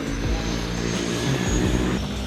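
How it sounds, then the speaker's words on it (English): Skydiving plane's propeller engine droning steadily nearby, a loud continuous hum with shifting low tones and no voices. "That's the plane we're jumping out of right there."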